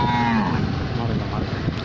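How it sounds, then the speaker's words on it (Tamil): A cow lets out a long, close moo on a rural farm beside fields and a well, the low call fading into steady outdoor background. "மாடுகள் பாருங்கள்,"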